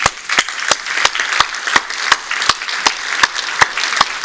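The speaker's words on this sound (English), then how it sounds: "let's give them a big round of applause" Applause for a panel at a democracy and rule-of-law symposium in Stockholm, dense clapping cut through by a sharp, regular series of loud clicks about every third of a second, with no talk over it.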